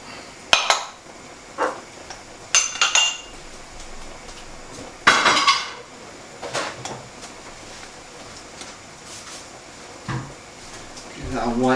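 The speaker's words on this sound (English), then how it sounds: "So while this is just finishing up, I'm just going to tidy the kitchen up." Pots, pans and cutlery clatter in a home kitchen during tidying, with a few sharp clinks and bangs in bursts near the start and middle, then quieter handling. Speech is also present.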